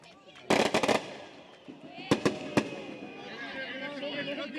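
Sharp crackling pops of fireworks go off in quick clusters, fairly close, while people talk and call out in the background.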